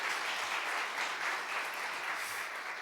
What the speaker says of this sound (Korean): 우리 선생님들을 위해서 한번 박수 한번 쳐줄까요?